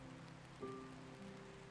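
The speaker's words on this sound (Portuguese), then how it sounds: "Os pingos de chuva." Steady, soft rain patters in the video game Until Then, a faint, even hiss with a low hum beneath it and no voices.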